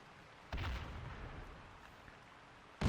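Mortar shells burst in ARMA 3, a muffled boom rolling in at mid-clip and decaying into rumble before a second, sharper blast hits at the end.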